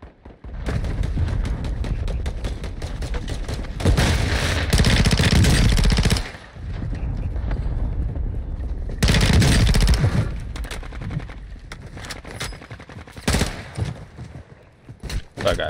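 Gunfire in the video game Warzone 2: long loud bursts of rapid automatic fire, broken by brief pauses, then scattered shorter shots toward the end.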